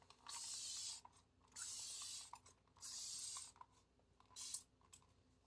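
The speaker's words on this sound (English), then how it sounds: "it's a rose water facial spray" Four short bursts of fine hissing rose water facial spray from a pump bottle, each lasting about a second with quiet pauses between, close and fairly soft.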